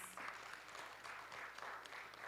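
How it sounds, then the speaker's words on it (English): Steady applause from a crowd at a research presentation session, a continuous wash of clapping throughout at moderate, even loudness. "For the last time, let us give them a well-deserved applause, please."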